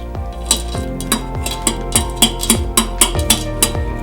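A utensil mixing edible cookie dough in a bowl, clinking against the sides in a quick, steady rhythm of about two strokes per second, close and clear, with no talking.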